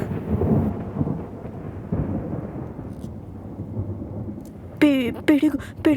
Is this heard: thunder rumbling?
yes